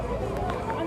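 Crowd at a debate in a Muslim forum: dense, loud babble of many voices packed together in a brief burst, close by, with no single speaker standing out.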